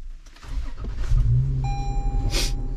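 A Toyota 4Runner engine cranks and catches, then settles into a steady idle with a sustained electronic chime tone over it, close and fairly loud inside the vehicle, with no talking.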